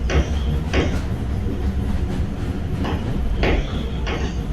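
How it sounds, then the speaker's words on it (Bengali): A long train rolls along rails, giving a continuous rumble with repeated clickety-clack bursts and metallic squeals at regular intervals, fairly close and loud throughout. "ট্রেন দেখো ট্রেনটা কি লম্বা।"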